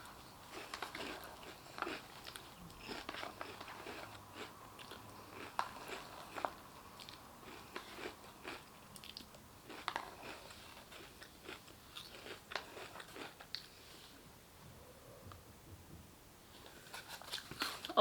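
Crunchy Halloween cereal eaten from a bowl, with close, irregular bites and chewing crunches repeating steadily and fairly quietly, with no talking.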